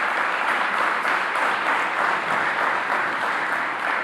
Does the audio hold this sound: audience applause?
yes